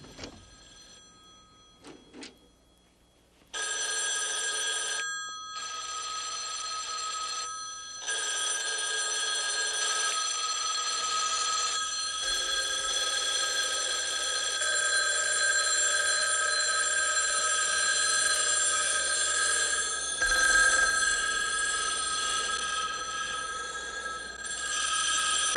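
Telephone bell ringing in a scene from the film The Omega Man, a loud, sustained electric ring with brief pauses, after a quiet opening.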